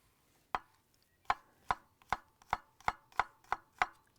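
Garlic being chopped with a knife on a board for rustic ratatouille, nine sharp, evenly spaced chops close up, each a crisp knock, with no talk over them.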